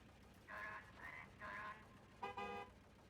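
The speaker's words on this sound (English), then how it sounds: "Problem is, I think it keeps honking forever." A vehicle horn in the survival game Volcanoids sounds in short repeated toots: three brief honks followed by a slightly longer, brighter double blast, clear against quiet game background.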